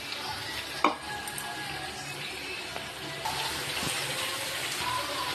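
Tap water runs steadily into a bowl in a home kitchen during cooking, a continuous hissing splash at moderate loudness with a small clink near the start.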